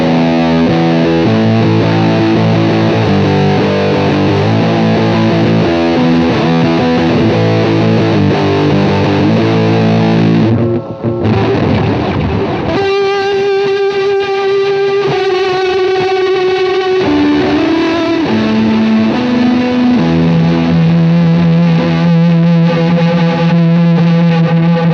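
Electric guitar run through a UAFX pedal with Muff fuzz, loud and saturated, sustained chords and then single notes whose repeats trail on continuously with a phasey sweep across the stereo field, no talking.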